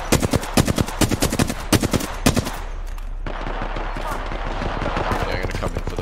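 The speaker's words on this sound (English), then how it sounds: "Just hitting them up with some pistol shots" Gunfire from a pistol in the battle royale game Apex Legends: a rapid string of sharp, loud shots fired in quick succession for about two and a half seconds, then a lower rumbling game background.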